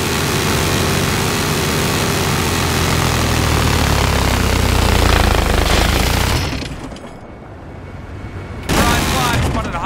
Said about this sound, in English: Be advised, I've spotted a hostile jet.